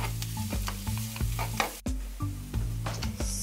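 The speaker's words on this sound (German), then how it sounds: "während das da drüben noch vor sich hin brutzelt" Steak, bacon and a hashbrown roll sizzle in a hot pan, a close continuous crackling fry broken by repeated scraping and stirring strokes, with one sharp knock midway and no talking.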